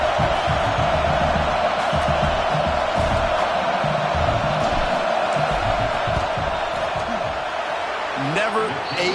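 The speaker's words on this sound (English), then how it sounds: "This crowd trying to do its part to get inside the kicker's head." A loud, steady stadium crowd roars continuously as a football kicker lines up a field goal attempt, dense cheering and noise filling the whole moment with a commentator talking over it.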